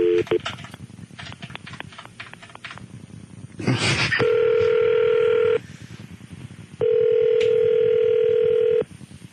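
A telephone dials a number with a quick series of beeps, then two long ringback tones sound in turn, with people talking softly underneath at the start.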